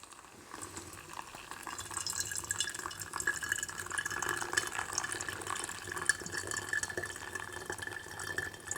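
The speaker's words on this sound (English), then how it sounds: "So we'll go ahead and we'll just pour this over" Near-boiling water poured over coffee grounds in a Sea to Summit X-Brew, a steady trickling splash running close and continuous with faint dripping underneath.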